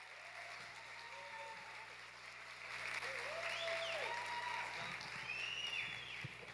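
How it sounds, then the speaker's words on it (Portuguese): Theatre audience at a stage hypnosis show applauding, a soft steady patter with scattered whistles and voices that swells slightly midway and stays fairly distant and faint. "Uma salva de palmas, vai, pessoal."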